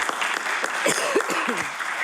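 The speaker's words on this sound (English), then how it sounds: "So if the House could give him a round of applause, please." A legislative chamber's members give a round of applause, a steady spread of clapping from many hands, with some voices and calls mixed in throughout.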